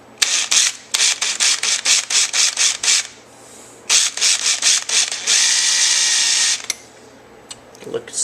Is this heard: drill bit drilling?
yes